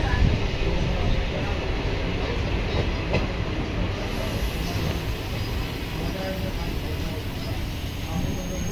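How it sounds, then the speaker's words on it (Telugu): A train pulls out of Gajulapalli railway station on the Guntur–Guntakal line, a loud, steady rumble of rolling wagons with a faint clickety-clack that carries evenly throughout. "ట్రైన్ గాజులపల్లి స్టేషన్ నుంచి డిపార్చ్ అవుతుంది."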